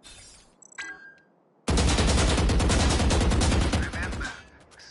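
A long burst of sustained automatic gunfire in Valorant, loud and dense for several seconds after a brief quieter moment, then tapering off.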